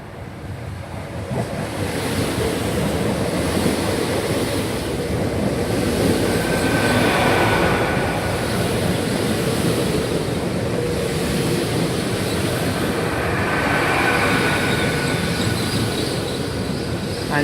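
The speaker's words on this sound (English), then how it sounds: "Coming in here is the 11:12 service to London Paddington, originating Bristol Temple Meads." A nine-carriage unit 800-315 passenger train, the 11:12 service from Bristol Temple Meads to London Paddington, pulls into a station with a loud, steady rolling rumble and a hiss that hold throughout, with no voices.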